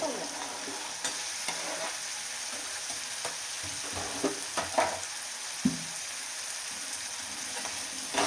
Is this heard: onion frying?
yes